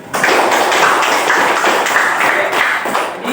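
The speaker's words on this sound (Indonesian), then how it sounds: "tepuk tangan dulu untuk Sandi." A classroom of students claps for a classmate, producing loud, close, steady rhythmic clapping that runs without a break for a few seconds.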